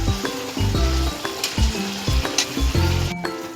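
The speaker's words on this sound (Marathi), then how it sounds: "टॅमॅटो आपले नरम होईपर्यंत त्यांना फ्राय करायचे" Tomatoes and onions frying in a pan for butter chicken gravy, a steady close sizzle with repeated stirring scrapes and no talk.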